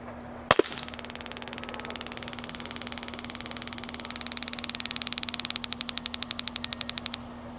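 A TASER Pulse 2 fires a live cartridge at a target: one sharp pop, then a rapid, steady train of electric clicks that crackles on for about seven seconds and then stops abruptly. No one speaks.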